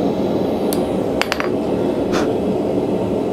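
A hammer strikes hot steel on an anvil while forging a horse head belt buckle, a handful of sharp metallic clinks, some in a quick double, ringing over a steady workshop hum.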